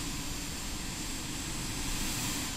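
Airplane engine roar during a landing in Microsoft Flight Simulator 2020, a steady broadband drone holding at an even level throughout, with no talk.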